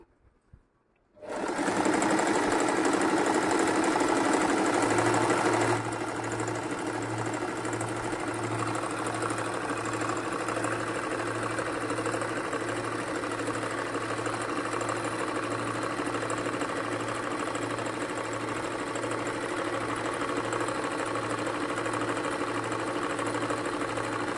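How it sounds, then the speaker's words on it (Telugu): A Singer M3505 sewing machine starts after a brief quiet moment and runs steadily, sewing decorative stitches with a loud, even mechanical whir and rapid needle chatter for over twenty seconds without pause. "ఇప్పుడు స్టిచ్ చేసి చూపిస్తాను."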